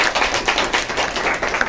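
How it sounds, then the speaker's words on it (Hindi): An audience claps as feedback at the end of a training session on effective selling, a short, loud, steady burst of many hands applauding together with no talk. "इसका फीडबैक तालियों के साथ दें कि आज का सेशन आपको कैसा लगा"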